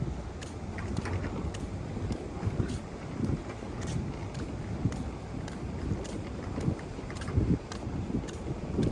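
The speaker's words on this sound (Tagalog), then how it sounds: "Kahit na may humid, pero ang lakas ng hangin." Strong, humid wind blows steadily outdoors in Abu Dhabi, buffeting the microphone with a continuous rumbling roar and repeated gusts, with no talking.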